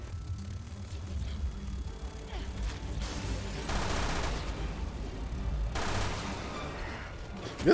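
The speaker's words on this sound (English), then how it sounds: "This machine gun is tight." Bursts of rapid machine gun fire ring out in Resident Evil Revelations 2, dense fusillades in two louder stretches over a rumbling game background, with a final sharp shot at the end.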